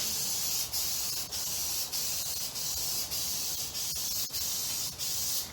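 Continuous hissing spray of glue during minibike work, close and loud, broken by brief pauses and small clicks roughly every half second to second.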